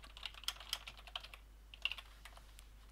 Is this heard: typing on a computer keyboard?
yes